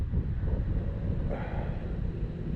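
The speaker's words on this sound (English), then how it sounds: "the wind's coming from the northeast, I think" Steady wind buffets the microphone outdoors at Sturgis, a constant low rumbling gust noise filling the whole stretch with no talking.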